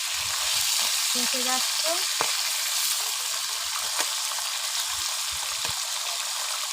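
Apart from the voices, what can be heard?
live tilapia fish frying in a pan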